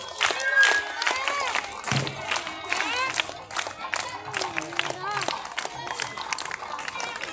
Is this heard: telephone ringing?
no